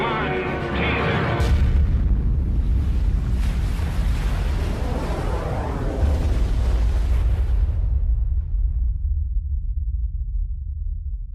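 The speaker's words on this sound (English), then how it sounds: "It explodes with a force of 10 million tons of TNT, 600 times more powerful than the bomb that destroyed Hiroshima." A 10-megaton nuclear bomb test explosion rolls out as a loud, sustained low rumble with a roaring blast, broad and continuous for several seconds before the upper roar drops away, leaving a deep lingering rumble.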